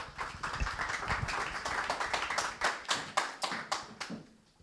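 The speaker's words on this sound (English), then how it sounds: "Please give them a round of applause." A small audience claps for panelists at a tech panel discussion, starting as a dense patter and thinning into a handful of distinct, close hand claps before stopping.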